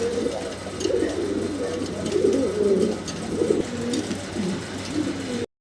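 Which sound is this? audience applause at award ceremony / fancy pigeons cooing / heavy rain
fancy pigeons cooing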